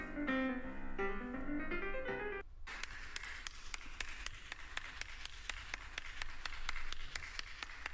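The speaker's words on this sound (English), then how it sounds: "So give a round of applause while we get ready for our surprise." A few seconds of music give way to steady, evenly spaced hand claps at a live café stream. The claps are sparse and regular rather than a dense round of applause.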